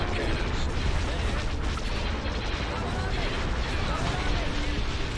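Space battle in the strategy game Star Wars: Empire at War, with constant weapons fire and booming impacts forming a dense, continuous barrage of blasts and explosions, steady and loud throughout under faint background voices.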